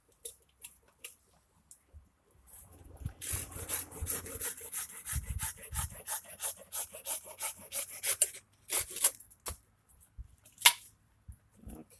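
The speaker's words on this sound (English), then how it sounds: "you don't need a super long blade to cut all this wood" A crank knife carves a wooden spoon blank in a series of close, rhythmic scraping and shaving strokes, with short pauses and a few sharper cuts near the end.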